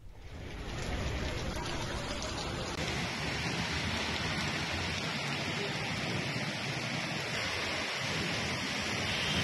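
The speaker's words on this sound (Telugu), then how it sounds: "ఎల్బీ నగర్లోనూ వర్షం దంచుకొట్టింది." Heavy rain pours steadily over Hyderabad, a dense, unbroken hiss of water drumming on surfaces that stays loud and even throughout, with no voices.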